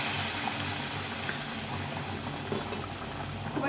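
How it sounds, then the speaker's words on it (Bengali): Previously boiled water pours into a pot of duck egg curry with new potatoes, giving a steady watery rush that holds evenly throughout without pauses, close by and with no voices. "এখন এর মধ্যে জল দিয়ে দিব।"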